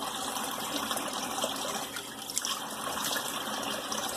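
Cold tap water runs and splashes close by as a face is rinsed after a shave with a vintage Gillette Aristocrat razor, a steady wet gushing broken by small splashes.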